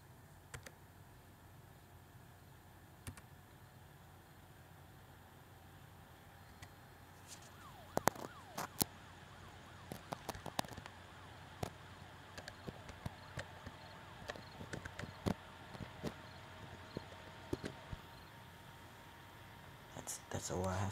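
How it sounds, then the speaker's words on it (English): A police Camaro's siren wails in Farming Simulator 2013, a faint electronic tone running steadily through the scene while a voice talks and sharp mouse clicks and taps sound over it. "I'll just turn the sirens on."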